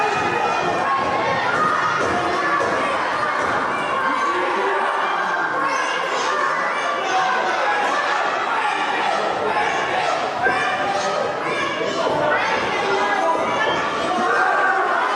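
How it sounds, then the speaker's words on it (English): A crowd at a local professional wrestling show in Abbeville chatters and cheers during a match. The steady noise carries on for the whole fifteen seconds at an even level, with scattered shouts rising above it. "Crowd is getting into it here in Abbeville."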